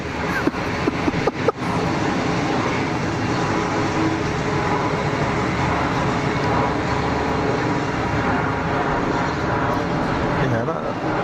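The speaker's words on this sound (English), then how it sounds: "they pile on altitude so quickly, the Biz Jets" A business jet roars through a short takeoff run and steep climb at Geneva Airport, a loud steady broadband engine rumble that holds throughout, with a few sharp knocks near the start.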